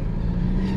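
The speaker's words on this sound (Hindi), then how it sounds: "एक नंबर में आपने गाड़ी स्टार्ट कर ली, गाड़ी रनिंग में आ गई।" A car engine turning over and idling steadily in first gear by the roadside, a loud continuous low rumble with no talk over it.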